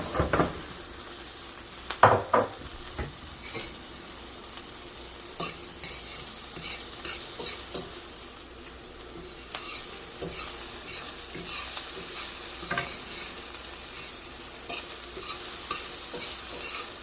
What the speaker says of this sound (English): Just want to soften the tomatoes a little bit.